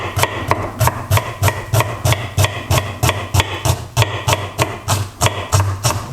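Knife chopping through an onion on a board at home, a steady run of about twenty sharp, close taps at a quick, even rhythm, with no talking.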